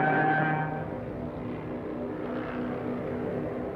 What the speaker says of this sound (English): The most notorious was the Junkers Ju-87 Stuka dive bomber.